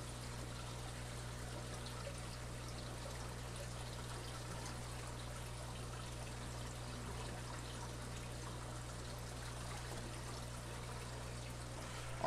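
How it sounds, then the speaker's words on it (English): Water trickling slowly into the sump of a 225-gallon saltwater aquarium, a soft, steady flow running under a constant low mains hum, with no talking. "we have water going in, which is good. It's going in a bit slow."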